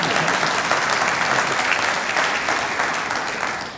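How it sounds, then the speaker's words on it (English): An audience at the 2016 Central Ohio Senior Citizen Hall of Fame ceremony gives thick, continuous applause that holds strong and then slowly eases off near the end. "We all need to clap on that."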